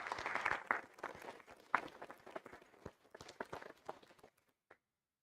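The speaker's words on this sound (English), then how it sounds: "So I think that deserves a round of applause." Quiet, scattered clapping from a small audience at a senior awards ceremony, a sparse patter of hands that thins to a few last claps and then stops.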